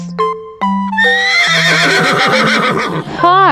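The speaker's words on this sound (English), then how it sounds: "Horse," A horse whinnies loudly and close, a long descending neigh with a shaky, wavering middle and a brief snort-like rise at the end, following a few short tonal sounds.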